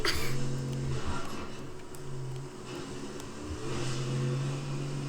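A car engine in the Fortnite video game hums and revs steadily with a droning tone that rises and falls, loud and continuous throughout with no talking.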